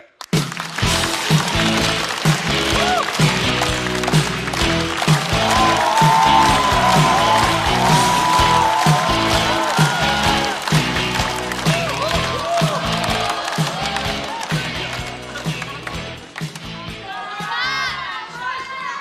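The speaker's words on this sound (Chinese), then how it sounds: "掌声欢迎秋月" A stand-up comedy audience applauds and cheers as a new comedian takes the stage, a loud sustained roar of clapping and whoops that tapers off near the end, with some shouting mixed in.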